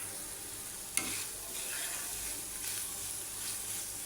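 Beef filling for singara is stirred in a hot pan, a steady sizzle under scraping strokes with one sharp clack of the spoon near the start, close and continuous with no talking.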